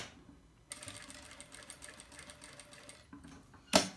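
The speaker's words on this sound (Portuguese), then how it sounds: "já fizemos o pesponto nas 3 alças que nós confeccionamos" A sewing machine topstitches straps of synthetic leather, running in a quiet, steady, rapid stitching rhythm for a few seconds before stopping, ending with a sharp click.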